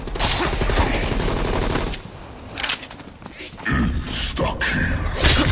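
Shotgun fire in a video game, heard as repeated loud blasts and rapid bursts of gunfire mixed with game effects and noise, with a voice talking over parts of it.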